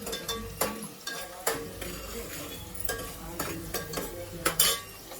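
Chicken tempered with bay leaf and frying in a home kitchen pan, a steady sizzle broken by repeated sharp scrapes and clinks of a spoon stirring against metal, close and fairly loud with no talking.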